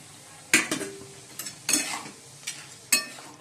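Chorchori of mixed vegetables with cauliflower and lentil bori cooking in a pan, heard as several sharp clinks and scrapes of a spatula against the pan spaced over a few seconds, with faint frying hiss between them.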